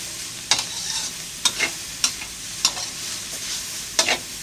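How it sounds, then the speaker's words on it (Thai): Preserved radish with egg and seasoning sauce stir-fried in a pan, with a steady soft sizzle broken by several sharp scraping strokes of the spatula at irregular intervals, close and moderately loud, no voices. "พอผัดจนซอสปรุงรสเข้าที่แล้วนะครับ"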